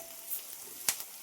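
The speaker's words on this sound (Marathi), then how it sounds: "यात घालते मी हिंग, कढीपत्ता" Asafoetida and curry leaves sizzle in hot oil over browned onions, a soft, steady hiss close by with one sharp crackling pop near the end, no voices.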